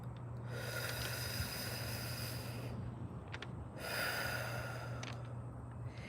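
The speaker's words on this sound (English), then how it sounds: "So lick, breathe in." A person breathes in through parted lips after licking them, a long, steady airy inhale up close, then a short pause and a second strong breath, with a low hum running underneath throughout.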